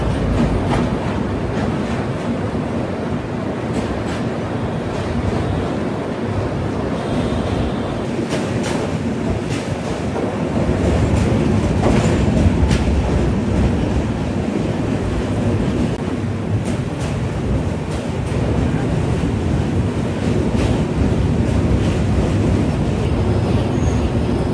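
Akal Takht Express train running on its tracks between Kolkata and Chandigarh, a steady loud rumble and clatter of the carriages heard from inside, continuous with no talking.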